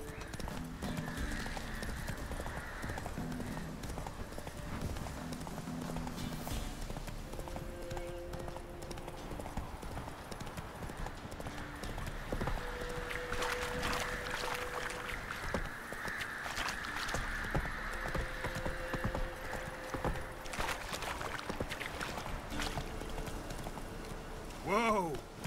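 Roach the horse galloping in The Witcher 3, with rapid rhythmic hoofbeats running continuously under background game music, a whinny near the end, and a voice talking occasionally over it.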